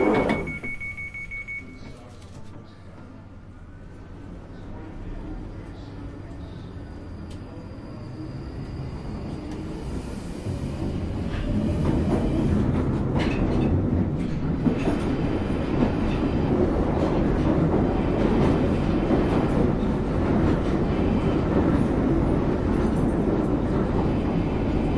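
A London Underground Northern line train runs along the track, its rumble starting softer and swelling into a loud, steady roar with faint rail clatter from around the halfway point.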